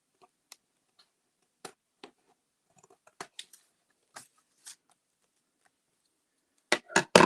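Scissors snip through collage paper in short, crisp cuts, scattered irregularly and heard up close, ending in a louder burst of snipping, with no voices.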